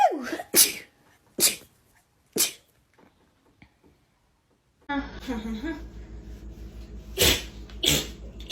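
Several sharp sneezes burst out one after another, loud and close, with quiet gaps between them, then a stretch of background noise and voices carries two more sneezes near the end.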